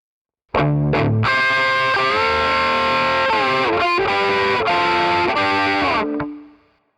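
Distorted electric guitar solo, opening with a couple of quick muted strums before sustained, bending lead notes ring out loud and alone, fading at the end.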